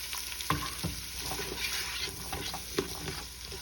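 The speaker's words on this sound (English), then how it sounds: "I'm going to add just a little bit more olive oil. Okay, next I'm going to add the onion, carrots, and celery." Chopped onion, carrots and celery sauté in olive oil, giving a continuous close sizzle broken by occasional spoon knocks and stirring scrapes.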